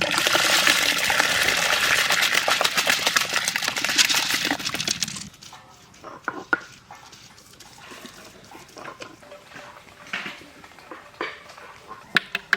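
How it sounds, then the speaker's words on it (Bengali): Washed red lentils tipped into a pot of hot water make a close, hissing, gushing pour for several seconds, followed by quieter scattered clinks and knocks of utensils, with no voice. "ডালটা আমরা সুন্দর করে ধুয়ে নিয়েছি, জল আমাদের গরম হয়ে গেছে, ডাল দিয়ে দেবো।"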